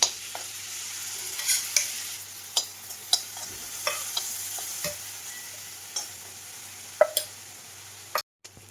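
Ground green chillies frying in ghee in a kadhai for sabudana khichdi make a soft continuous crackling sizzle, punctuated by sharp pops and spatula taps at irregular intervals, close and with no talking.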